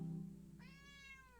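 A single cat meow, faint and brief, rising and then trailing off after a short low rumble, with no speech over it.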